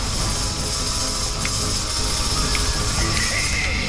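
The ammo refill sound in the video game Gears of War plays as a continuous mechanical ratcheting, clicking and whirring that lasts about four seconds at a steady level, with no talking.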